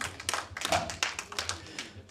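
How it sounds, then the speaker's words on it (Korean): Scattered applause from an audience at a live Korean folk song competition final, fairly quiet and sparse claps pattering irregularly for about two seconds. "큰 박수 부탁드리겠습니다"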